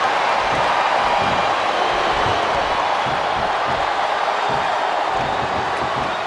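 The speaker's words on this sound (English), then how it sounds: "listen to that chant, Taz" A wrestling match crowd at a televised women's event produces a steady, loud arena roar with faint rhythmic pulses of chanting rising from the mass of voices.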